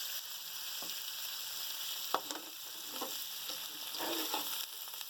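Tomatoes sizzle gently in a pan with ginger, garlic and chillies for a mixed-vegetable pulao, with soft frying crackle and a few stirring knocks and scrapes, fairly quiet and close.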